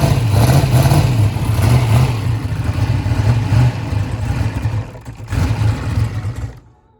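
A big engine running on methanol fuel, tuned lean, revs in rough, throaty bursts at close range, loud and uneven, then sputters and dies away at the end.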